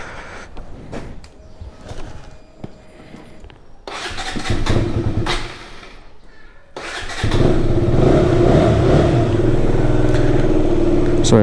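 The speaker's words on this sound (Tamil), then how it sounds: "நம்ம வண்டியை கொஞ்சம் நாள் வார்ம் அப் பண்ணலாம்." A motorcycle starting up and idling to warm up before a mountain ride from Ooty to Kotagiri. The engine catches, runs unevenly, then settles into a loud, steady idle close by, with birds and a voice briefly in the background.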